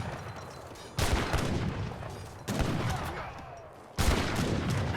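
Rifle riders fire massed volleys in a real-time strategy game, several crackling musket salvos going off in waves, each loud burst followed by a busy battle din.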